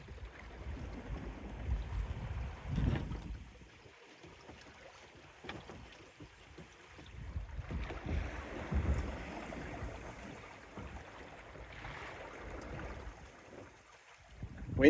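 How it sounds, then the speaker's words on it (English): Wind and following seas while sailing a West Wight Potter small sailboat: a steady rushing of wind noise and water washing along the hull, with periodic louder surges of waves, and no talking. "Wind's picking up a little bit here. Nice following wind. And obviously following seas as well."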